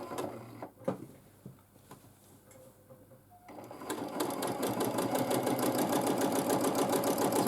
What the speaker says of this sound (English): I will quilt now directly on the line to create my visual